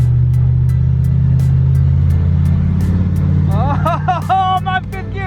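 A stock 5.3 car pulls hard in fifth gear during a street race, its low engine drone steady and loud close by, with several people talking and shouting over it toward the end.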